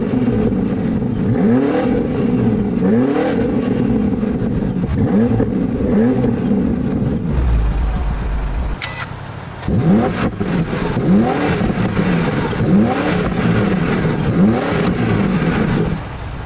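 A BMW X5 M Competition SUV revs its engine several times in a row, each loud rising roar dropping back. After a brief lull the engine comes back in with more strong, close revs.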